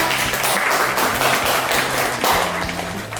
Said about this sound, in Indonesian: jadi sebelum mulai kita acara, tepuk tangan dulu yang punya